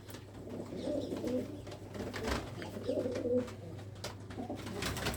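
Old red Cheena pigeons coo softly inside a coop in two low, burbling bursts over a steady background hum.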